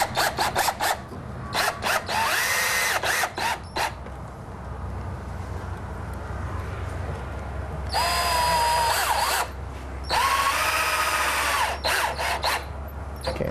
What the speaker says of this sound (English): we countersink through the back with a pilot bit, and then we use treated screws